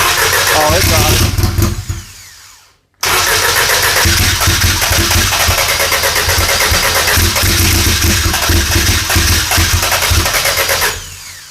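A big-tire Audi drag race car on a FuelTech setup fires up for the first time, cranking and catching, briefly dying, then bursting into a loud, rough, sustained close-range roar with voices underneath.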